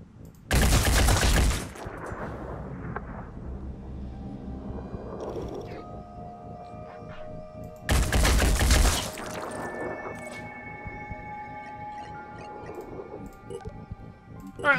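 Automatic weapon fire aimed at an enemy in the Phoenix Point video game, two loud rapid bursts several seconds apart, each followed by ringing game tones and echoes.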